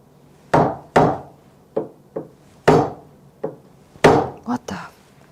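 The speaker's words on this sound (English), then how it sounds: "What if I use a chisel, but instead of trying to cut this, I just cut at the front?" Sharp, close chisel strikes into wood while cutting dovetails, a dozen or so irregular knocks and chops, some paired in quick succession, with no talk.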